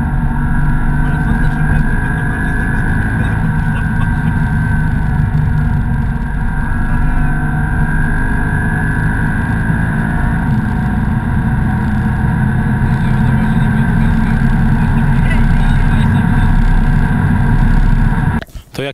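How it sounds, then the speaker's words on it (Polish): Mercedes C Coupe Black Series with its V8 engine, a steady loud drone heard from inside the car while cruising, with a voice talking over it throughout until it cuts off at the end. "No zdecydowanie silnik, takie no niepowtarzalne brzmienie aut z silnikiem V8 Mercedesa."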